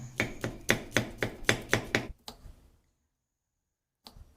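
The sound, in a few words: chopping onion with knife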